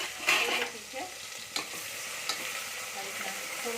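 Chili paste sautéing in a pan for undhiyu, a steady low sizzle with a few soft spoon scrapes and stirring clicks close by, no voices.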